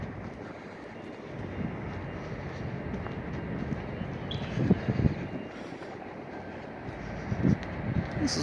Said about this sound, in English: You can see there's a sounder train going by.